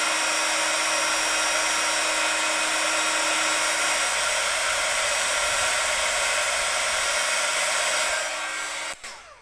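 A heat gun melts a candle with a loud, constant close-up rushing blower hiss, running unbroken for several seconds before cutting off abruptly near the end.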